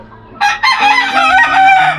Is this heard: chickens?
yes